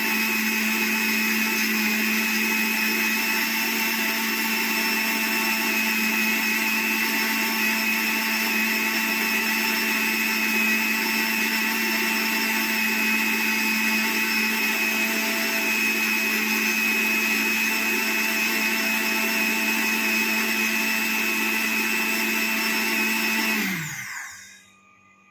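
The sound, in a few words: mixer grinder grinding turmeric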